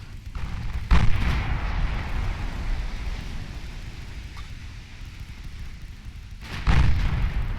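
Naval gunfire from 3-inch guns in Ultimate Admiral Dreadnoughts: two deep, booming cannon reports several seconds apart, the second louder, over a constant rumbling sea-and-battle wash.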